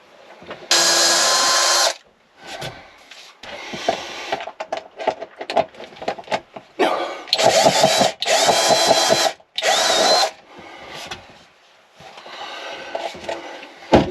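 A power drill on a slower speed whirs in several loud bursts of a second or two, separated by handling clatter and quieter gaps, while fitting a temperature sensor.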